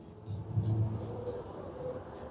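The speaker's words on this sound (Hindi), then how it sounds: "अब देखिए जी, ये गाड़ियाँ चल रही हैं" Small cars driving around a children's track outdoors, a steady low engine rumble with a slight swell, heard from a moderate distance with no talking.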